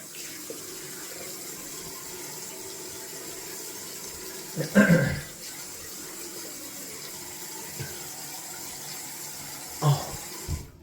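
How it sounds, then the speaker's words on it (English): A tap runs steadily into a sink for a cold rinse after shaving, a continuous moderate gush with occasional louder splashes. "We're down for cold water rinse, and this will be freezing."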